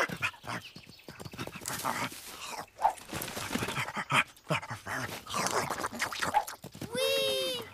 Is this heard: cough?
no